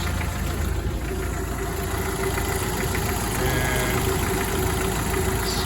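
A car engine idles steadily after an oil change, a loud, even rumble with a constant low hum and no variation in pace, heard alone.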